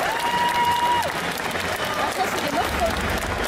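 Audience applause at a cosplay contest during an indoor fan festival, steady dense clapping with some crowd noise throughout, while a few faint tones and brief voices sit underneath.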